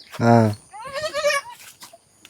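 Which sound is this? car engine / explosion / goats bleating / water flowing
goats bleating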